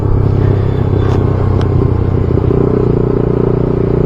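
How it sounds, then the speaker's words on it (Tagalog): A manual-transmission motorcycle in uphill traffic downshifting with a rev-matching blip, its engine a loud, steady close rumble throughout with a couple of faint higher clicks, no talking. "So yun yung magandang tunog guys ng rev match."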